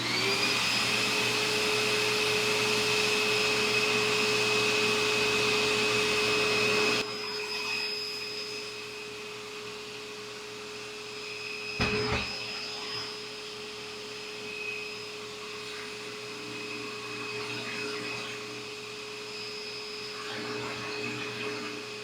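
A buffing machine hums with a steady tonal whine near the mic, then drops to a quieter running drone after about seven seconds, with a brief clunk partway through.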